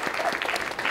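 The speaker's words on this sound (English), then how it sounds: "Yay, parents. Let's clap." Parents in a crowd clap for a raffle winner at a council event, steady dense applause filling the whole second at moderate level.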